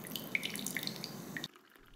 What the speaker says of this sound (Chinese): 饮品的气泡声，